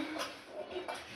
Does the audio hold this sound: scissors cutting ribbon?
no